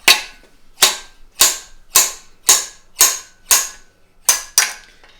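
A slide hammer pulling a main bearing cap off an Audi RS3 engine block during a bottom-end rebuild makes nine sharp metallic impacts at a steady pace, loud and close, each ringing off briefly, with no talking.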